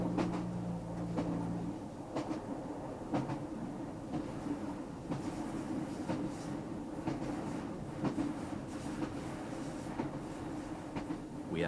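A train runs along a Welsh railway line with a steady, continuous rumble and faint rhythmic clicks from the wheels, heard from on board at moderate, even volume with no talk.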